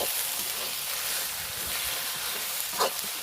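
Chicken curry spices with chili powder and salt fry in a pan, giving a steady soft sizzle and hiss, with faint stirring scrapes and one brief clink near the end, close and fairly quiet.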